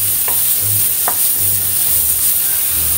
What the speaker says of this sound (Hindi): इसके अंदर मैं डाल रही हूँ चॉप्ड अनियंस, गार्लिक और ग्रीन चिली।